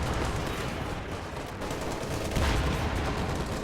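Steady, dense gunfire from an anti-infantry strafe in a World War II tank battle game, a continuous rattling barrage filling the whole stretch at even loudness with no pauses.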